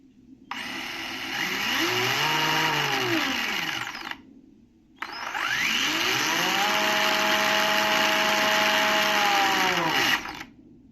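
Drive and weapon motors on a combat robot, run by programmed speed controllers, spin up in two long whining bursts, with the pitch rising, holding steady, then falling away, separated by a short silence.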